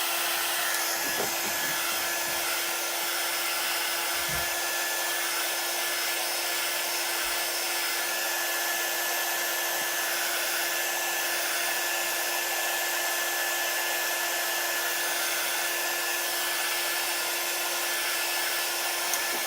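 A hair dryer blows steadily for the full length, a continuous airy whine with a steady hum, drying chalk paste on a wreath, close and unbroken, with no talking.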